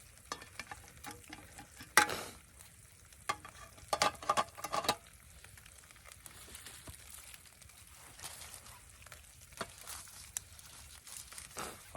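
Bacon sizzles and crackles in a frying pan during preparation of bacon, cheese and tomato Staffordshire oatcakes. The sizzle is faint, with sharp scraping and clattering bursts from stirring or turning, and nobody speaks.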